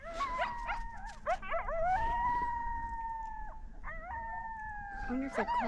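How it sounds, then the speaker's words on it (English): Coyotes on snowy Antelope Island, Utah, yip and bark at a passing hiker, then break into long, wavering howls that rise and hold, several voices overlapping at a moderate distance. "The coyotes see Clark, they're barking at him"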